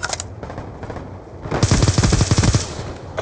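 Close, loud automatic gunfire in the multiplayer shooter Black Ops 2: one quick burst of about a dozen evenly spaced shots after a quieter stretch of ambient game sound.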